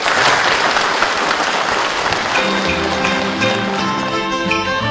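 An audience at a Yue opera television gala applauds to welcome a performer, loud dense clapping that gradually thins and fades as stage music begins underneath.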